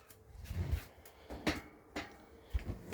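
Drawers and cupboards in a camper kitchen open and shut, giving several soft thuds and sliding knocks at irregular moments. The sounds are close and fairly quiet, with no talking.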